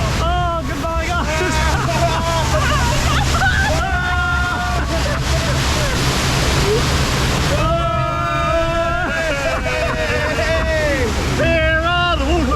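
Water sloshes and splashes around a boat on the rapids ride at Gardaland theme park in Italy, a continuous churning rush under excited voices and shouting from riders.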